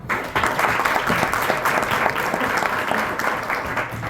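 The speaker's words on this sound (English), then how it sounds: "Clap for him." A classroom audience at an anatomy lesson claps for a student who answered correctly, giving a full, steady round of applause at moderate loudness.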